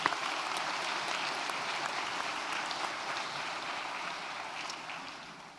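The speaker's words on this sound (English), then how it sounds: "but we could still give them a round of applause." Steady applause from a graduation ceremony audience, continuous dense clapping at moderate level throughout with no voices over it.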